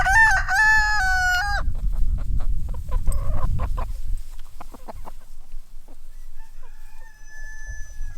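A rooster lets out a loud crow at the start, followed by backyard chickens clucking in short scattered bursts, close by and with no talking.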